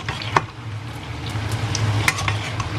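Dencis fish cooking with tauco in a pan, a steady low sizzle running throughout with a few sharp clinks and scrapes of a utensil against the pan, close and moderately loud, no talking.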